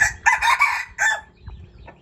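A young rooster, this year's bird kept as a gamecock, lets out one loud, close crow lasting about a second, followed by quieter clucking and rustling.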